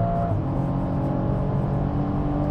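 A stage 1 tuned BMW M135i engine holds a loud, steady, rough drone at high revs, heard up close with no talk over it.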